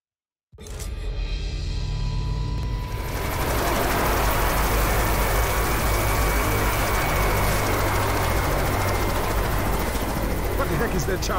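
A helicopter flying overhead in the modded video game Left 4 Dead 2, on the Dead Center campaign, bursts in suddenly as a loud, dense roar that swells after a few seconds and then holds steady.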